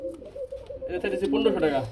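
Pair of pigeons cooing in a bird market, soft throaty coos running under someone talking nearby.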